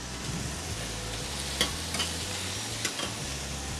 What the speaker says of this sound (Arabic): خليني بلش حط المشروم، ما بدي كتير البصل تاخد لون